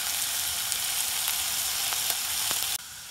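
Sliced onions sizzle in a saucepan with a steady, bright hiss and a few faint stirring ticks, the frying cutting off abruptly near the end.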